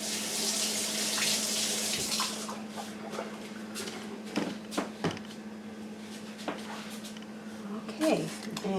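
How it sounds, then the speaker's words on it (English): Kitchen tap water runs in a steady hiss for about two seconds as hands are rinsed during preparation of a clove-studded Christmas ham, followed by quieter clinks and handling sounds. "Alright, rinse my hands."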